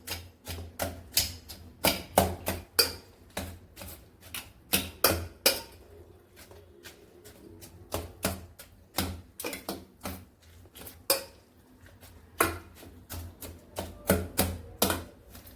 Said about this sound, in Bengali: হাতা দিয়ে এটাকে ভালো মতন করে মিশিয়ে নেব।